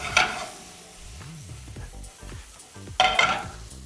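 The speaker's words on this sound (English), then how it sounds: "Saute that for a second." Arugula, about a cup's worth, sautéed in a pan for a frittata, with stirring scrapes and a soft sizzle, plus two louder bursts of utensil and pan clatter near the start and end; no talking.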